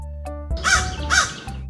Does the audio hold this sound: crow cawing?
yes